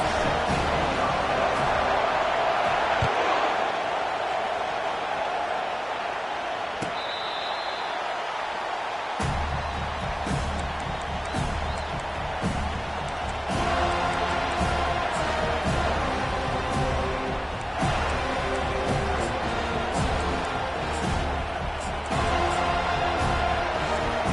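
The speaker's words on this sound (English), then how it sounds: "This crowd trying to show them what it's going to be like all day in this house." Stadium crowd roaring steadily throughout at a college football game between the Seminoles and their opponent in EA Sports College Football, a dense continuous wash of fans with play-by-play commentary talking over it.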